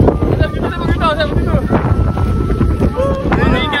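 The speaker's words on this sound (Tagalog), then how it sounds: "Kaya pala ang lakas ng hangin." Strong wind near a large windmill buffets the microphone with a steady low roar, while people talk over it throughout.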